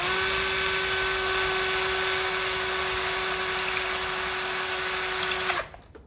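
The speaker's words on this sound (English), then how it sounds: "I think this drill here will do the same trick, it's just it's harder to keep it steady," An electric drill running steadily on a Lucas distributor, a constant high motor whine with a faint pulsing near the end before it abruptly stops, close and loud, with no talking.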